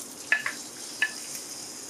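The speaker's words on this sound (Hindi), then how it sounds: "ऑयल डालने के साथ ही हम इसके अंदर प्याज डाल देंगे।" Onions dropped into hot oil in a karahi give soft crackling sizzles, two brief spits standing out over a steady frying hiss, with no talking.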